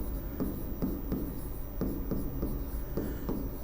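Hand-written Hindi characters scratch across paper in short, close strokes at a regular pace, each one a brief rasping burst between pauses, quiet and with no speech.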